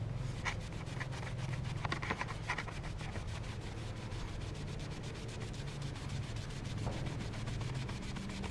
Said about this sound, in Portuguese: Agora pode esfregar bem forte.